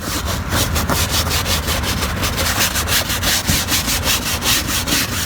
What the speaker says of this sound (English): I'm still scrubbing. And now I'm using 2 hands